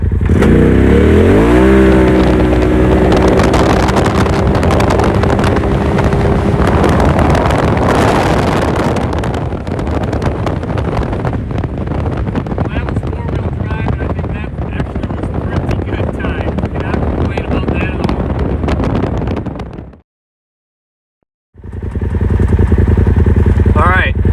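A 2021 Polaris RZR XP Turbo side-by-side with Trinity exhaust, clutch kit and 32-inch tires, in four-wheel drive, roars and revs hard under heavy wind buffeting, climbing steadily in pitch, then cuts out briefly before surging back.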